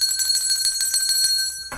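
A bell rings rapidly in a steady run of bright, close metallic strikes with a sustained ringing tone, ending abruptly after under two seconds.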